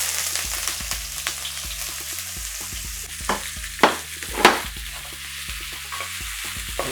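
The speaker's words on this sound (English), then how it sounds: "Let's mix around the onions." Onions fry with fried rice in a pan and are stirred, a bright sizzle broken by repeated scraping utensil strokes and a couple of louder clanks midway, with no voices.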